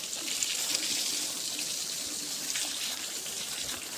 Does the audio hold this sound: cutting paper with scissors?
no